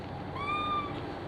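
A single short cat meow rises and falls over a steady low background hum inside a house abandoned for fifteen years, fairly close and clear with no voices.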